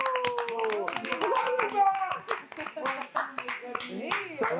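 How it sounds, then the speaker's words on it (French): Audience applause at a live comedy show, dense clapping from a crowd mixed with cheers and overlapping voices and talk, sustained throughout. "Je vous demande d'applaudir René-Marc Gage."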